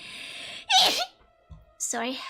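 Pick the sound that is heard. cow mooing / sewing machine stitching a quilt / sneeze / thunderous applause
sneeze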